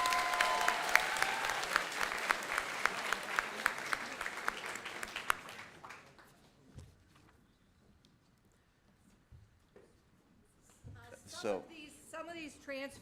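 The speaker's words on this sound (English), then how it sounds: "one more big round of applause for all of our 17 new transfer students" Audience applause at a school opening assembly, with a crowd clapping loudly and densely for about five seconds before it fades out, leaving a quiet room with scattered shuffles and brief voices near the end.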